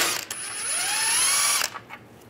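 A ratchet fitted with a 13mm socket loosens a steering rack bolt on a 1998-2010 Volkswagen Beetle, giving a close, steady clicking run that stops abruptly, followed by a couple of faint clinks.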